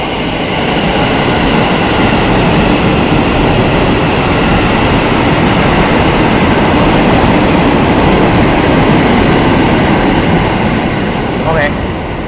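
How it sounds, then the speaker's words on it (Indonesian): Cirebon Fakultatif passenger train standing at a station platform, a steady loud rumble of engine and station noise running throughout with no clear pauses. "Nah, ini dia rangkaian kereta api Cirebon fakultatif."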